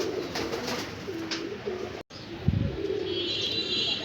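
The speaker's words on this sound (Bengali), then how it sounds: "এইখানে কবুতরের ঘরে হয়তো 150 জোড়ার মতো কবুতর আছে" Pigeons coo in a loft housing about 150 pairs, with several soft, low, repeated calls overlapping against a steady background hum.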